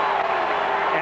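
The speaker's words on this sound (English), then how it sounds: "Crowd wants another penalty call." Ice hockey arena crowd at the 1988 Calgary Olympics, USSR versus USA, roaring steadily for a penalty call; a dense, continuous wall of voices fills the whole moment without letup.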